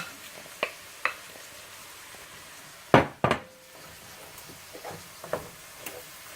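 Cauliflower pieces stirred in a hot pan, with a soft steady sizzle broken by scattered scraping clicks of a utensil and a couple of louder clatters midway, close and fairly quiet with no talking.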